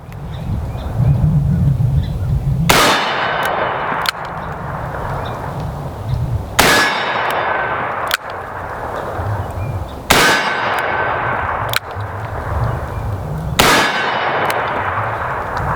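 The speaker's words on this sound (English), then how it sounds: "So let's just go ahead and shoot these 6." An S&W 629 .44 Magnum revolver with a 6.5-inch barrel fires a series of loud, sharp reports a few seconds apart, each ringing briefly before the next shot.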